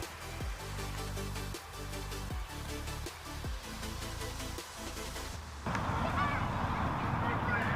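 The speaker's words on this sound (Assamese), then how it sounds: "চাৰিওফালে মাত্ৰ চৰাই মাত" Geese honk repeatedly in a rhythmic series at moderate distance outside the Grand Mosque in Oman, then a louder rushing noise takes over near the end.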